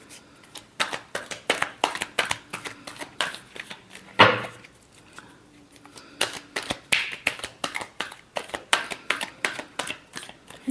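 Tarot cards being shuffled by hand, with a steady run of crisp, papery riffles and taps that pause briefly midway and then resume in the same brisk rhythm, close and fairly quiet, with no talking.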